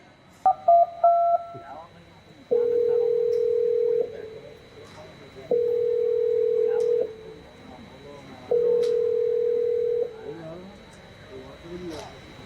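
A quick burst of telephone keypad tones as a number is dialed during a stage skit at a school annual day, followed by three long, even ringback tones spaced a few seconds apart over a faint room murmur.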